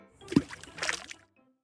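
Wooden club dropping into the sea in a children's folk tale, heard as one short splash followed by a brief watery burble, quiet and close.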